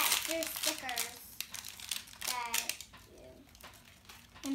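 Crinkly plastic blind bag packaging is torn open along its strip, giving short crackling rips close by, while children and an adult talk over it.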